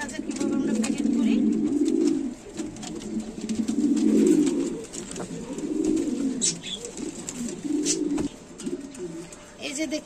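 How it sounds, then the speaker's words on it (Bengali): A pair of red king pigeons coo in low, rolling bursts while being packed into a box for delivery, close and steady with a few rustles and a voice talking over them. "চট্টগ্রামের এক ভাই এই একজোড়া কবুতর কিনেছে।"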